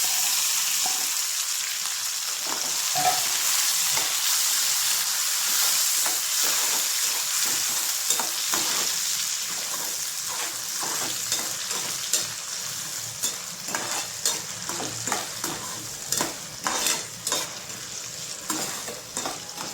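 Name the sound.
onions, green chillies and tomatoes frying for upma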